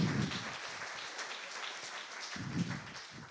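Applause from an audience at a university data science launch event, a fairly quiet, diffuse patter of clapping with low murmuring bursts near the start and end.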